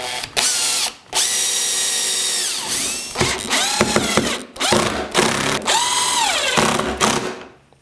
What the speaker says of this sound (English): I can come in and drill some holes